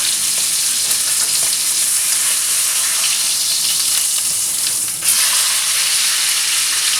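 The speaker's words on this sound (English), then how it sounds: "It's been searing on that side." A steak sears in a hot pan, a steady loud sizzle and crackle of frying fat that runs throughout, with a brief dip and sharper flare near the end.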